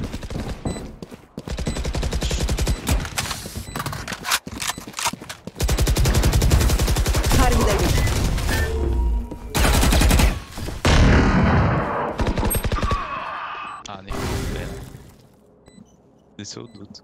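Phantom rifle fire in the shooter game Valorant: rapid, loud automatic bursts in long strings with brief pauses and sharp impact cracks, while a player talks over the shooting.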